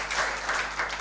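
Audience applause for a speaker at an event, a short burst of steady clapping from a gathered crowd.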